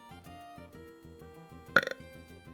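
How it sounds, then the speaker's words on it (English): A short, bubbly burp pops out once over a steady looping game melody, brief and fairly loud against the soft music. "Little baby burp."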